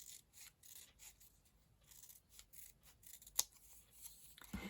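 Scissors cut along double-sided tape on paper, giving quiet, close snips and soft rasping slides in a steady series, one sharper click near the end, with no voices.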